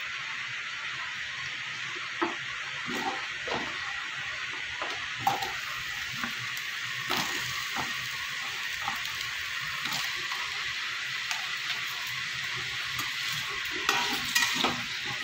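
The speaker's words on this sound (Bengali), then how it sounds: "এবার আমি আলুটা ভেজে নেব।" Potatoes fry in mustard oil in a wok with a steady, even sizzle throughout, broken by scattered scrapes and knocks from stirring that grow a little louder toward the end; no one speaks.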